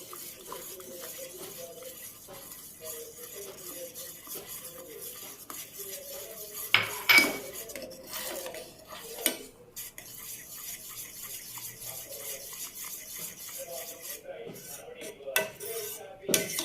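A mango pudding mixture thickening in a pot is stirred with a utensil, producing soft intermittent scraping and clinking against the pan, with a few sharper metallic knocks standing out near the middle and end; no one speaks.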